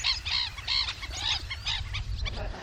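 Birds call along the Great Salt Lake shore, with repeated honking squawks fairly close over a low, steady rumble of waves, and no voices present.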